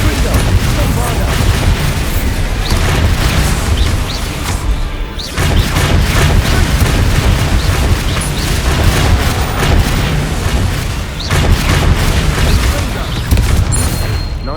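Explosive Confringo and Bombarda spells in Hogwarts Legacy, dense booming blasts and crashing impacts piling up loud and nearly continuous, with a couple of brief dips between bursts.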